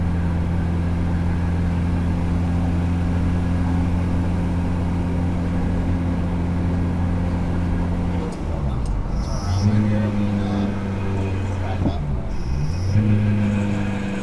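A 700hp Honda S2000 engine idles with a steady low drone, then blips and revs in surges partway through before settling back, loud and close, with a brief voice in the background.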